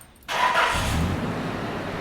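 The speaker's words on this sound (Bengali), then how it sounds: "এই যে আমি ইঞ্জিনটা স্টার্ট দিতেছি" A Toyota Prado nine-seat jeep's engine catches abruptly after a brief quiet moment, then settles into a steady, loud, close idle rumble.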